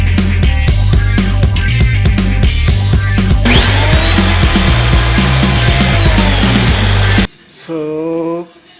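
A power saw cuts wood strips into splines for a corner cabinet, a loud close roar with a rhythmic chopping texture that shifts pitch midway, then cuts off abruptly into a brief spin-down whine.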